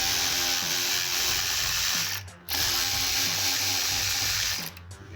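A 7mm socket ratchet works the mounting screws on a Ford F-150 side mirror, giving a steady rapid clicking of the pawl that runs for about two seconds, pauses briefly, then resumes, close and clear with no talk.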